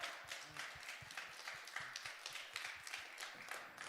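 Hands clapping during a church youth Sunday service, a quick run of sharp, rhythmic claps from a small group at moderate distance, fairly quiet overall.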